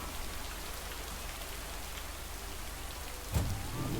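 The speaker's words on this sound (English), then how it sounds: "The rain's getting worse." Heavy rain falls in a steady, even wash of drops, loud and unbroken, with one brief low thud near the end and no voices.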